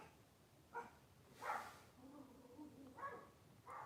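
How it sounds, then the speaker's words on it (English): A guard dog, a small Yorkie, barks a few times in the distance, short separate yaps spread over a few seconds, faint under quiet room noise. "The guard dog is, I think, barking at another dog."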